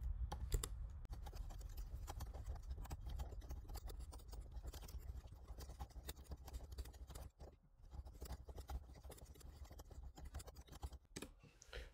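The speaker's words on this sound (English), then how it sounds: "I'm just hitting tab to move to the next one." Quiet computer keyboard presses, tab key tapped repeatedly, come as soft, irregular clicks and taps over a low room hum, close and faint with no voice.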